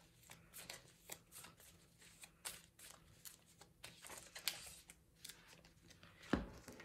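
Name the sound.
shuffling cards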